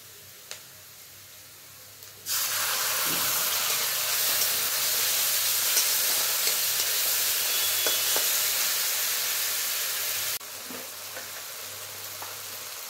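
Spices hit hot oil in a pan of browned suran (elephant foot yam) curry, bursting into a loud, steady sizzle that holds for about eight seconds before dropping abruptly to a quieter background hiss.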